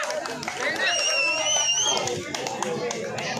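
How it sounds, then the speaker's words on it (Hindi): Spectators at a village dangal wrestling bout in Agra clap for the wrestlers, with a loose, scattered patter of applause mixed with crowd chatter, voices and a few whistles. "एक बार बढ़िया से पीटी मीटी तालियां बजा दो इनके।"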